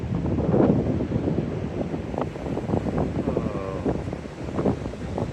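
Strong gusty wind buffets the microphone at Bournemouth beach, rumbling in uneven bursts with a faint wash of surf beneath.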